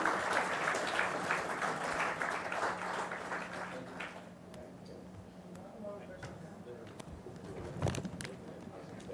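Workshop audience applauding the panelists of a transit-oriented development session, a dense wash of clapping that is loud at first and fades after about four seconds, with a brief louder burst near the end.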